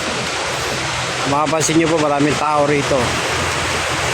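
Sea waves wash along the shore of Manila Bay in the rainy season, a continuous broadband hiss of surf that goes on while someone talks over it.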